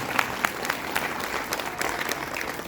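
Applause from an audience at a retirement ceremony, a steady wash of many hands clapping at moderate volume with scattered sharper claps, no voices standing out.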